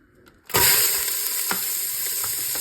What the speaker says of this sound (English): Let that saute in there